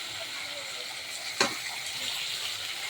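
Fish pieces, including the head, frying crisp in hot oil give a steady, close sizzling hiss with one brief louder crackle partway through.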